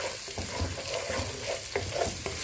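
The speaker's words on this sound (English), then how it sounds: "Give it a good mix." A spoon stirs pilau rice with pilau masala spice mix and salt in a hot pot, giving a steady scraping and mixing sound over a continuous sizzle. It is close and fairly loud, with no voices.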